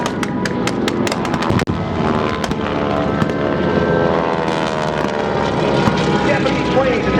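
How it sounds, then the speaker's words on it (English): Loud, continuous droning roar of propeller planes passing overhead at an air show staging a Japanese air attack, with sharp cracking pops near the start. "Japanese planes attack relentlessly."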